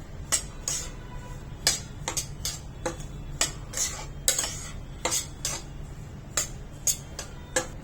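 Spoon stirring semolina dry-roasting on low heat in a kadai, sharp metallic scrapes and taps recurring irregularly about twice a second, close and clear with no voices.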